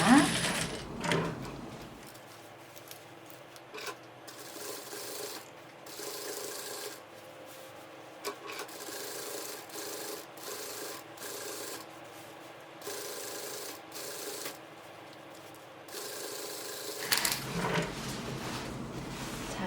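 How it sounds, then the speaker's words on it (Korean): A sewing machine stitches a seam about 0.3 cm beside a zipper line on a basic dress, running in repeated steady bursts with short pauses and handling noises in between, close by. "저쪽은 다 박았으니까 또 이제 이쪽 박아보겠습니다"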